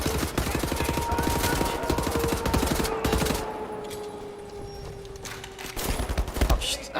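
Rapid gunfire from the Wolfenstein: The New Order video game, set in 1942, rattles in dense automatic bursts for several seconds, easing briefly before another loud volley, with faint talk in the background.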